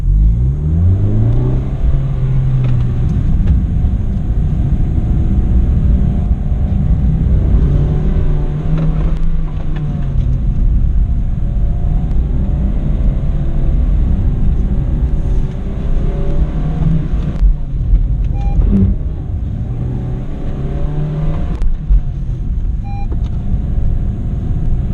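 A Honda Jazz/Fit engine revs continuously through a motorkhana run, pitch rising and falling with repeated acceleration and easing off, heard steady and loud from inside the car.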